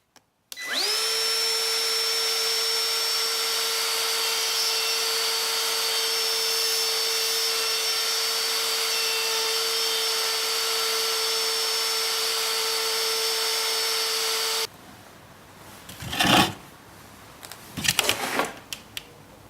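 A Ryobi cordless trim router spins up into a loud, steady high-pitched whine held for about fourteen seconds, then stops, followed by a few clattering handling noises.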